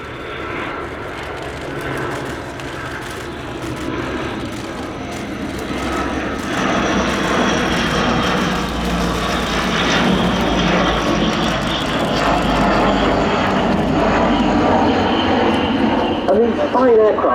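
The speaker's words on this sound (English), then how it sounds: "Bringing the aircraft in now for a search and rescue support" A French Navy Dassault-built Atlantique 2 (ATL-2) patrol aircraft at the RIAT 2025 airshow approaches for a search and rescue demonstration, its engine roar building steadily and filling the whole span under a commentator's talk.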